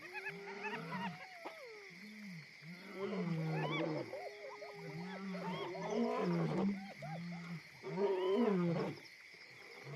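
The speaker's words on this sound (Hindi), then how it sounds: "नर शेर रात में ज्यादा जोश से दहाड़ते हैं" Male lions in the Luangwa Valley roar at night, deep, powerful bellowing calls repeated in several long bouts, with overlapping roars and grunts resonating loudly across the open valley.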